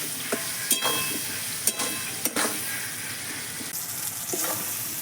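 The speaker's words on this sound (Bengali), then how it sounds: "এবার আমি আলুগুলো ভাজা ভাজা করে নেব।" Potatoes frying in oil in a pan with tomato for a Bengali cabbage dish, a continuous close sizzle broken by several sharp spatula scrapes and clanks as they are stirred.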